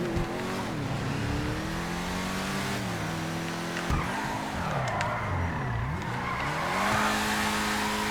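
A Grotti GT500 sports car engine in GTA 5 Online revs and growls steadily, pitch swooping up and down through gear changes, with tire screeching mixed in, loud and continuous.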